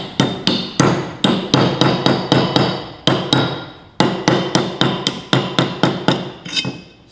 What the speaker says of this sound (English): we can grab a hammer and gently pound it around